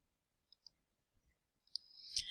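A computer mouse clicks quietly: two quick clicks close together, a fainter one after a pause, then a sharper click before a rising hiss.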